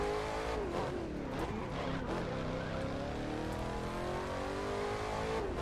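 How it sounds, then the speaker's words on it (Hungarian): Race car engine in The Crew 2 revving steadily at close range, pitch sweeping up and down with faint tire noise, loud and continuous throughout with no talk. "Jó hangja van az autónak, azt kell mondanom"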